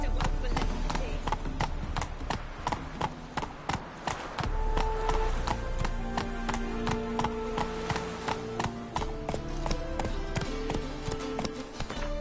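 Hoofbeats from Roach, the horse in Witcher 3, clip-clop steadily at a gallop alongside game music and a voice speaking over the rhythm.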